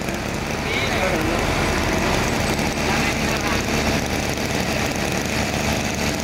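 A Mitsubishi TL23 grass trimmer converted from gas to petrol fuel runs steadily with a continuous droning engine note, loud and close throughout with no pauses.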